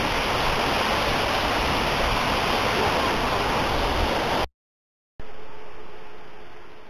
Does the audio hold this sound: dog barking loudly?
no